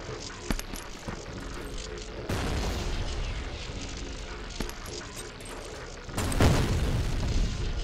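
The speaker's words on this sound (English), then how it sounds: "I feel like those nades did nothing." Grenade explosions in the shooter F.E.A.R., loud booming bursts with one sharp blast early, a surge of rumbling noise midway and a big final detonation near the end, all over a dense roaring din.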